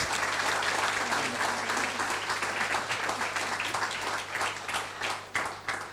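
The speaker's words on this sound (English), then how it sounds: "Can we please have a round of applause for our speakers?" Applause from the audience for the speakers at a maritime event marking International Day for Women in Maritime, steady clapping from many hands that holds for several seconds, then thins into scattered individual claps.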